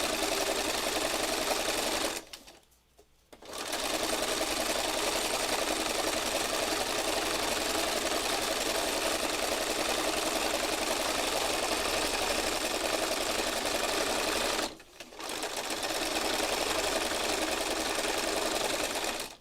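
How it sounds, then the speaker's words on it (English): A sewing machine stitching a fabric heart, running in a loud steady whir that stops briefly twice and starts again, close up and with no voices. "I just back up and stitch over it."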